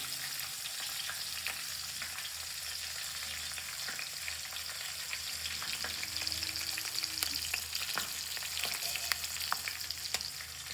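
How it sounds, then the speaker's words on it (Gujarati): Green chilies frying slowly in a little oil over low heat, producing a soft, steady sizzle with faint crackles and occasional light taps, close and fairly quiet with no speech. "મરચાંને ધીમા તાપમાને આપણે ફ્રાય કરવાનો રહેશે."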